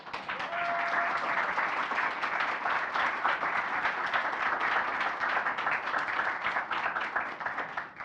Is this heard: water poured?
no